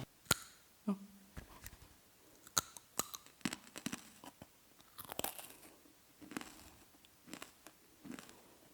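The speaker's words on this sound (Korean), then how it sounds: "자, 브이콘 ASMR 갈게요." V-Cone, a Korean corn snack, crunched and chewed close to the mic in irregular crisp bites with quieter chewing between them and no talking.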